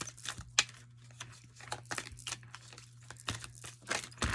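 Quick, papery riffling bursts of tarot cards being shuffled repeat irregularly, close and fairly soft, with a low steady hum underneath.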